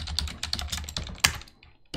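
Quick bursts of key presses on a computer keyboard while a command is entered, close and crisp, with a final sharper key strike near the end and no talking.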